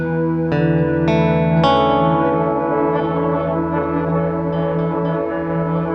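A Chase Bliss Lost and Found multi-effect pedal in resonator mode, with three bright plucked attacks in quick succession ringing into metallic, bell-like sustained tones that hang and slowly decay.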